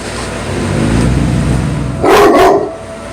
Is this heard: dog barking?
yes